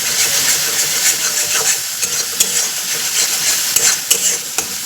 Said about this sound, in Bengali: ঝালের গুঁড়ো দিয়ে দিচ্ছি এটা মিক্স করে নিই